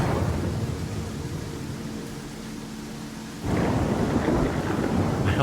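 Heavy rain pours steadily with a low thunder rumble during a thunderstorm in the video game Pathfinder: Kingmaker, then the downpour suddenly grows louder and denser.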